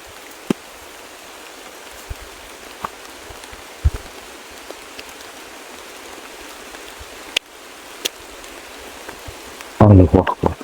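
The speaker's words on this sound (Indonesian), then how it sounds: "Tiba-tiba hujannya gede lur." Heavy rain pours down steadily, a dense continuous hiss dotted with sharp drip clicks, ending in a brief louder clatter.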